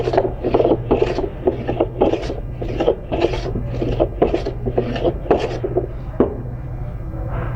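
Repeated strokes of a tuned hand plane shaving wood, about a dozen rhythmic rasping passes close up, each a bright hiss of blade cutting fluffy shavings.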